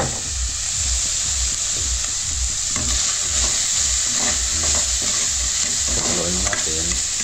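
Ground pork afritada with carrots and potatoes being stirred in a pan, a dense, loud sizzle with rhythmic scraping and stirring strokes throughout, close by.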